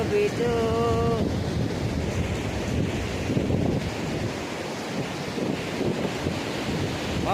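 Sea waves roll in at Bapatla beach, a loud, constant surf roar with heavy wind buffeting the microphone, and a brief tonal whistle near the start.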